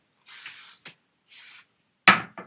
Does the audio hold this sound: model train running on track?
no